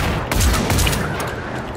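Rapid gunfire from a video game rattles in a quick burst of several shots, sharp and close, the volley thinning out after about a second with no talk over it.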